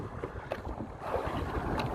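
Strong, gusty wind buffets a small fishing boat out jigging at sea, a rough rushing roar against the microphone with faint knocks and water sounds beneath.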